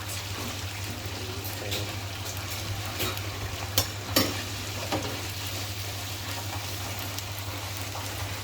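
Fish fries in fresh, clean oil with a steady close sizzle and crackle over a constant low hum. A few sharper pops and spits stand out near the middle.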